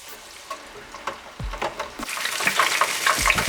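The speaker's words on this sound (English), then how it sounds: "I'm going to plunge these into the oil and cook them for about 6 or 7 minutes until they're lovely and golden and crispy" Ginger beer battered food dropped into a pan of hot oil, with soft thumps and then a rising bubbling sizzle of deep-frying, close and alone.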